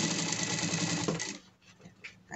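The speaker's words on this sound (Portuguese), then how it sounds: "coloca na costura, acompanha a costura pra a aba ficar levantadinha" A sewing machine stitches a leather pet harness, running in a fast, even, loud mechanical buzz for over a second before stopping, followed by faint handling clicks.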